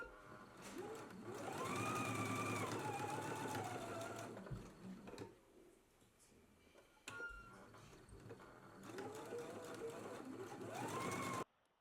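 A sewing machine stitches fabric flower petals along a raw edge, running in steady loud bursts that stop briefly midway and then resume, with no talking.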